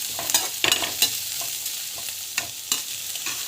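Chana dal sautéing in a pan, a steady bright sizzle broken by scraping stir strokes at irregular intervals, close and fairly loud with no voices.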